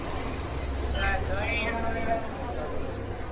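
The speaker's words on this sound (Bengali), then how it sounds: "ট্রেন জাংশন স্টেশনে এসে পৌঁছল।" A train rumbles and slows into a junction station with a thin, high wheel squeal running over the low rolling noise of the cars.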